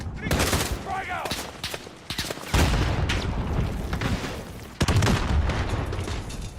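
Rapid gunfire crackles through a Call of Duty Modern Warfare (2019) battle mission, bursts of automatic shots and sharp reports coming in clusters, loud and close, with shouted voices mixed in.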